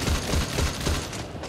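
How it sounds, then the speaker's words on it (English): Triple-shot sniper fire in a shooter game, a quick run of evenly spaced punchy shots in close succession, loud and dense with little pause between them. "Apex gun, that Apex sniper with the three bullets. Triple shot."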